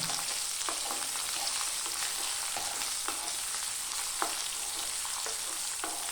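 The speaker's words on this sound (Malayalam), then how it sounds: "ഒരു മീഡിയം സൈസ് സവോള അരിഞ്ഞത് ഇടാം. സവോള ഒന്ന് മൂത്ത് വരണം." Chopped medium onion frying in a pan, with a steady broadband sizzle and occasional soft stirring clicks throughout, fairly quiet and even with no talking.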